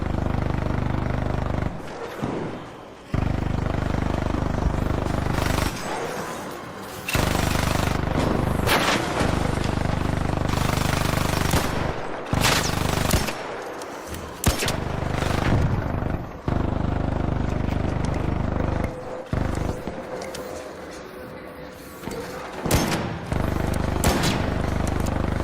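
Gunfire in the video game Arc Raiders, long sustained bursts of rapid shots with brief gaps and occasional louder blasts, dense and loud throughout.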